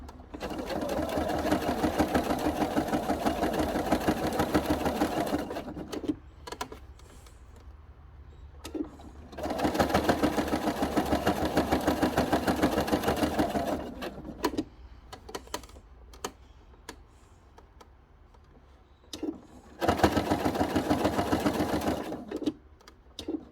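A sewing machine stitches through layers of quilting fabric and man-made wadding, running loud and close in three long steady bursts with short pauses and small clicks between them.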